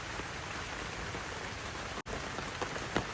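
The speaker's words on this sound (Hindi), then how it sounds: "हल्की हल्की बारिश हो रही है।" Light rain patters steadily in a forest at Chitrakoot where an outdoor meal is being cooked, a soft continuous hiss of drops on leaves and surfaces with no voices.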